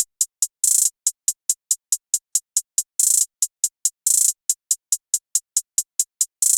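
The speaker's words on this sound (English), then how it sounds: "But next is the hi-hats." Crisp hi-hat hits tick in a steady, fast pattern, broken by a few longer open hi-hat sizzles, with nothing else in the mix.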